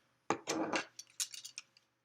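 A glass set down for pouring beer, giving several close, bright clinks and rattles in a quick burst, then smaller taps fading out, with no talk over it.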